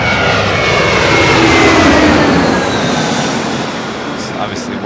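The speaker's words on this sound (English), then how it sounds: "Delta 119 heavy connect, SoCal, departure, have a good flight." A heavy Delta jet airliner departs LAX, its loud, broad engine roar swelling and then slowly fading over several seconds, with radio voices in the background.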